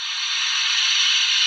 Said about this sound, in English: blowing off steam